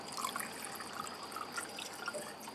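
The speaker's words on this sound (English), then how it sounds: "I want the hole to land the water right on the lip as much as possible towards the front." Water pours steadily from a jug onto the lip of a deer-chaser tipper, a faint, continuous trickle and splash with no talking.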